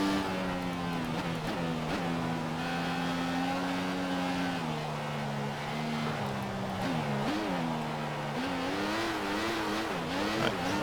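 A Formula 1 race car engine in the F1 2014 game whines loudly and steadily, its pitch dipping and climbing through gear changes and throttle lifts, with no one talking.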